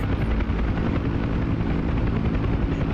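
A UH-1 Huey helicopter hovers in the DCS simulator, its rotor producing a steady, loud, rhythmic thumping drone with no talking.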